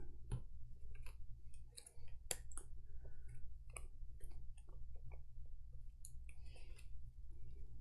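Gloomhaven: Jaws of the Lion cards handled and shuffled at a tabletop game session, close and fairly quiet: irregular soft clicks and flutters of card stock over a steady low background hum, with no talk.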